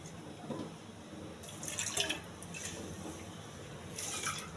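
Water pours into a pressure cooker holding soaked, washed lentils for millet pongal, a splashing trickle with a couple of brighter gushes, close and moderate in level, no talking.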